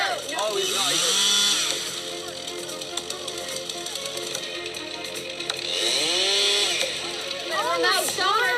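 A chainsaw buzzes and revs during logging, its whining engine rising and falling in pitch, with two louder bursts near the start and end, while people talk over it in the background.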